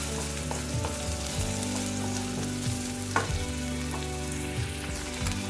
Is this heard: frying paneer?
yes